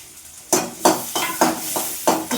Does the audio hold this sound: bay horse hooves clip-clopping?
no